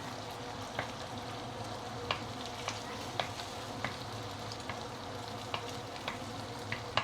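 An egg seasoned with light soy sauce fries in a pan for Maggi mee goreng with prawns, a steady close sizzle running throughout with occasional faint clicks from stirring.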